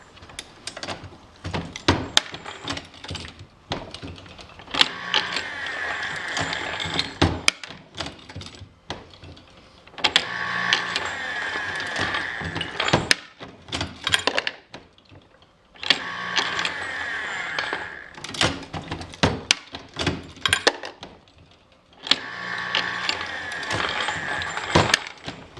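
A Dillon Square Deal B progressive ammunition reloading press being cycled by hand, giving bursts of mechanical clacks, clicks and ratcheting close by, in four busy stretches separated by short quiet pauses, with no talk.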